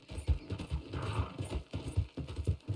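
A horse gallops in Red Dead Redemption 2: steady, rhythmic hoofbeats in quick repeating groups, close and clear, with a faint creak of tack and no talking.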